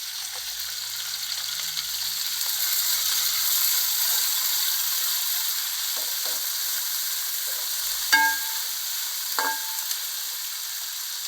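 Onions and mixed vegetables sizzle steadily in hot oil while being fried for a vegetable pulao, a continuous close hiss with a few sharp clinks of a spoon against the pan near the end.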